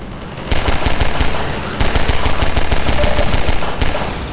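Combine soldiers open fire in Half-Life 2 Episode 1, with rapid machine-gun bursts rattling loudly and almost continuously, close and dense, with no talk over them.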